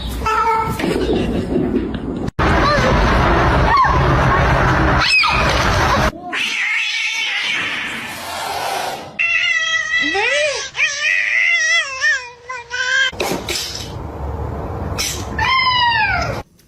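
A pet cat meows and caterwauls in repeated drawn-out, wavering cries, close and loud, with people talking and laughing around it between calls.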